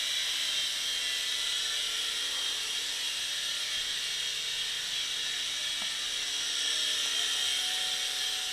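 A WLtoys S389 RC helicopter flies at full speed with turbo, giving a steady, high-pitched electric whine and rotor buzz that holds constant throughout.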